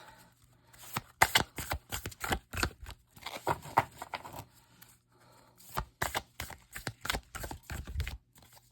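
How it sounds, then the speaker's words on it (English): Tarot cards shuffled in several quick riffling bursts, crisp and close, with a short pause midway before the shuffling resumes; no talking. "let's get some more cards for you."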